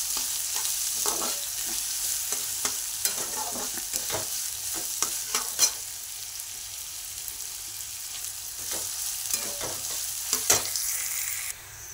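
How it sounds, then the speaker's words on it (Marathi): Chopped onion roasting in a pan for upma, a steady close sizzle with repeated scraping and stirring clicks from a spoon throughout, no voices, cutting off near the end. "आता हे छान भाजून घ्यायचं आहे।"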